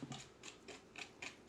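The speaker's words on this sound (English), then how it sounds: "Okay, so you want to whisk that up a little bit." A whisk scrapes a bowl while mixing salt into a flourless chocolate cake batter, making faint, rhythmic ticking strokes about every quarter second, close and quiet.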